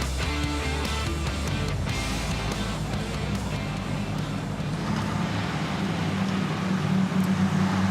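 Audi Sport R8 LMS Cup race cars run on the Adelaide street circuit in South Australia, a continuous roar of engines passing and blending, fairly loud with no voices.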